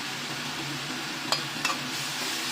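Yellow chives fry and sizzle in a hot pan while being stirred for a shrimp and egg dish; a steady close sizzle runs throughout, broken by two quick scrapes of the utensil near the middle.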